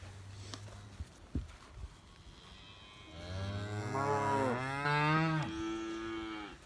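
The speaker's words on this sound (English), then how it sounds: "What are you mooing about?" A cow in a farm herd gives one long, drawn-out moo that swells loud and close and then fades, preceded by a few soft thumps and shuffling.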